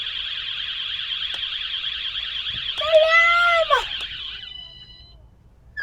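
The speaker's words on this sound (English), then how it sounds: "And if I press the panic alarm," A van's security system panic alarm sounds loud and near, a rapidly warbling electronic siren with a brief rising-falling chirp in the middle before it cuts off.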